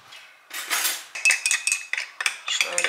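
A spoon stirs and scrapes inside a metal pot on a stovetop, giving a close series of clinks and rattles that grow busier after a quiet start, with no talking.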